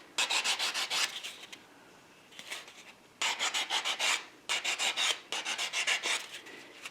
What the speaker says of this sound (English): This is a file that I use to smooth out this type of work here.